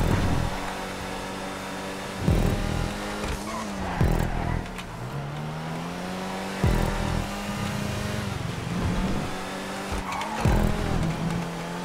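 Car in a GTA 5 stunt race braking and turning, engine note rising and falling as it revs and downshifts, with repeated sharp tyre squeals and skids through the corners, loud and close.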